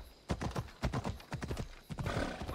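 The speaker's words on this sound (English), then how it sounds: "Horse! How'd you get up here?" A horse's hooves clatter in quick, close clip-clops in Assassin's Creed Odyssey, then break into a loud whinny near the end, with no talking over it.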